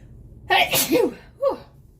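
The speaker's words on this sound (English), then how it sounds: "Oh no, I have to sneeze." A sharp, close sneeze bursts out, followed a moment later by a shorter second sneeze, with quiet room tone around them.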